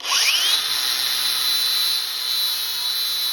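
A power tool grinds a burr off a bandsaw-cut stainless steel railing post, held at a slight angle, giving a loud, steady high whine that starts with a rising spin-up and holds for a few seconds without talk.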